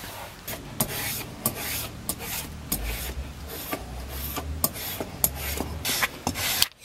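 A spokeshave pares calf leather for a bookbinding job, giving a soft, steady rasping rub with quick scraping strokes and small clicks, close but fairly quiet.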